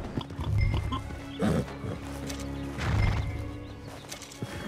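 Horses in the Red Dead video game, several loud neighs and whinnies close by, with clip-clop hooves and shuffling movement between the calls.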